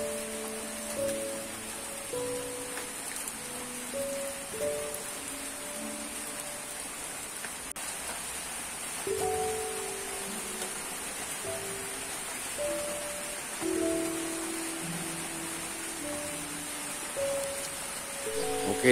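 Heavy rain pours steadily onto surfaces around a chicken coop during a thunderstorm, a dense continuous hiss throughout, with faint tonal sounds drifting in the background.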